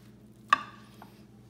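An onion is sliced thin with a kitchen knife: one crisp cut lands against the board, followed by a faint second tap, over a low steady room hum.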